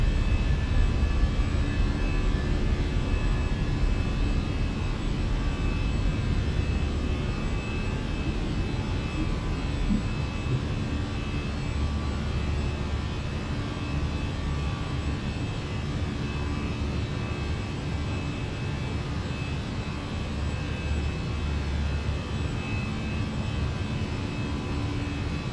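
Steady, loud broadband roar of Airbus A319 jet engines at climb thrust just after takeoff in Flight Simulator 2020, heard from inside the aircraft and continuous throughout with no talking.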